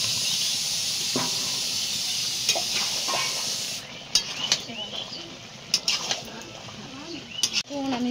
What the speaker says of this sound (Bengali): আমি মাংসটা কষছি